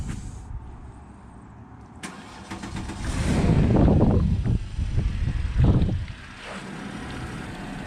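A Porsche Panamera (2010–2016 model) cranks and fires up via remote start: a click and brief electronic whine, then a starter churn that swells into a loud engine catch before easing to a steady idle nearby.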